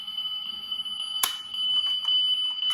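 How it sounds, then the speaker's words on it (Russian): A metal toy Toyota Prado model car plays its alarm sound effect: a shrill, steady electronic tone, close and fairly loud. A sharp click about midway marks the alarm restarting, and no one speaks. "Сигнализация сработала."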